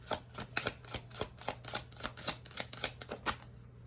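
Tarot deck being shuffled by hand, a quick run of about a dozen crisp riffling card bursts in steady rhythm, close and fairly loud with no talking.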